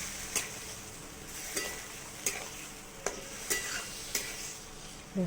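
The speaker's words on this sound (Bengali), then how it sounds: "মশলাটা দিয়ে দিলাম সাথে একদম হালকাভাবে রান্নাটা করবো" Spice paste frying with potato and pointed gourd in a pan for a light Bengali curry, a steady soft sizzle broken by regular scraping strokes of a spoon stirring, close and fairly quiet.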